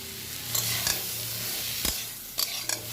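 Okra and potatoes sizzle in a pan of frying mustard spice paste for a vegetarian curry, with a steady close hiss broken by several sharp clinks and scrapes of stirring.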